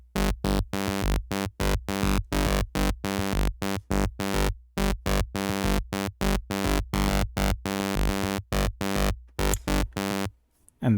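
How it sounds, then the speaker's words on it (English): A punchy synth bass section without an LFO chops along in a tight repeating rhythm of short heavy notes and gaps, loud and alone until it cuts off near the end. "So the section without an LFO sounds like this."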